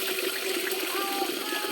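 Running water from a tap at an elevated outdoor spot, a steady broadband rush that fills the short stretch evenly without pauses.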